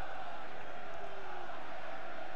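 Football crowd noise at a Swindon Town versus Bristol City local derby, a broad distant roar and murmur of the stadium rising slightly, with a commentator's voice faintly present over it.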